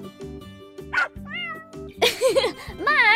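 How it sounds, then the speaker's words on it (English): A cartoon cat from a children's animated show meows several times in high, bending, sing-song calls, mixed with bright cartoon music and short bursts of a child-like voice talking. "Meet our new cat!"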